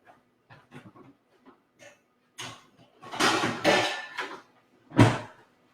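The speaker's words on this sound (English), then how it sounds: "I'm going to find my lid." A metal lid set onto a cooking pot of simmering beans and greens in a home kitchen, with a few soft clinks and knocks, then a louder clatter as it settles, close and quiet.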